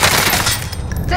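Gunfire in Call of Duty Warzone, a short loud burst of rapid shots close by.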